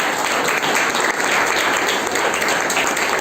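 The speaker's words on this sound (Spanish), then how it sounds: "Dale un aplauso al Señor" A church congregation claps together for the Lord during a sermon, a thick, continuous burst of applause filling the room at full strength, with no speech over it.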